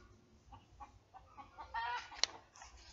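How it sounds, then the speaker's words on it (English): Chickens cluck softly in a farmyard, with a brief louder squawk near the end, faint and somewhat distant. "Can you hear the chickens?"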